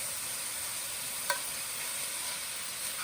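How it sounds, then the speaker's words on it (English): Garlic frying in a pan for a light weeknight pasta, a steady soft sizzle throughout with one brief clink near the middle, with nobody talking. "Now I'm going to add my garlic."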